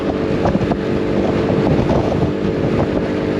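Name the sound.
wind buffeting while riding motorbike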